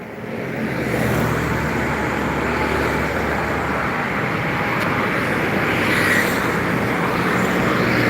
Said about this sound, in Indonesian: bermacam-macam truk dan bus yang melintas sekitar Jalan Lintas Timur